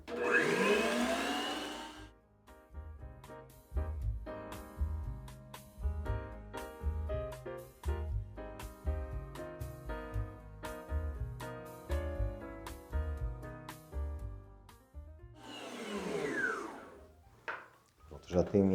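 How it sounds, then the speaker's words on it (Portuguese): A stand mixer beats egg whites with a sugar addition, a steady whirring motor drone running through most of the span, framed by louder rushing bursts at the start and end, heard close with no talk over it. "Vamos levar aqui para a batedeira."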